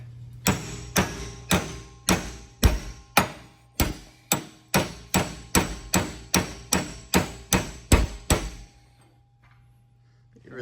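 Hammer blows drive a rubber bushing from the left front upper control arm of a 1959 Ford Fairlane, about fifteen loud, sharp metallic strikes in a steady rhythm, then a brief quiet pause.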